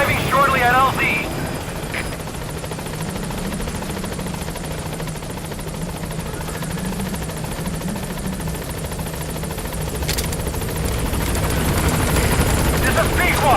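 A support helicopter in Metal Gear Solid V arrives at a landing zone, its rotor thumping loud and steady throughout, with a radio voice speaking over it at the start.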